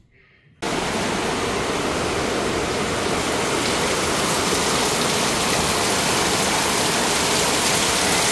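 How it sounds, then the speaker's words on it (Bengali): Heavy rain pours down steadily under a darkened sky, a dense, continuous roar of falling water that starts abruptly after a brief quiet moment and holds loud and unbroken to the end. "এদিক দিয়ে দেখুন দুনিয়াটা অন্ধকার হয়ে কিভাবে বৃষ্টি পড়ছে"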